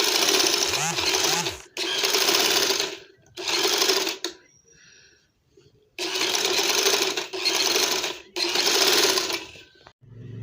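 An electric sewing machine stitching a pink strip with pink thread, running loud and close in several steady bursts separated by short pauses.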